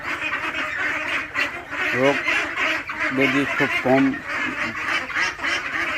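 A flock of hybrid ducks quacks in short bursts, several nasal calls close together, while someone talks over them.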